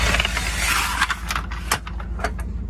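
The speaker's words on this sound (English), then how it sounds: "you lift this up into position. That raises the awning, and you'll see your pin comes through." A manual Dometic RV camper awning lift handle is raised into position, giving a close run of mechanical creaks, clicks and metal knocks as the awning rises and the pin seats.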